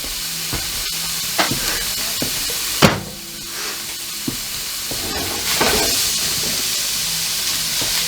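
Cooked rice going into a hot pan of stir-fried vegetables sizzles and hisses steadily and loudly, with scattered clinks and scraping stirs over the continuous frying noise.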